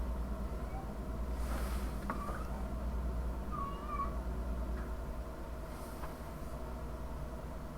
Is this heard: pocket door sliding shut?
no